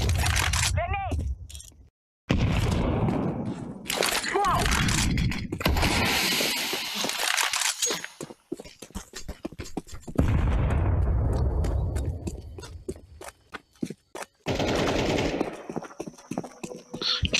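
Loud, dense shooter video game combat with bursts of gunfire and a grenade explosion, booming and crackling in clusters over roughly seventeen seconds, with brief gaps between.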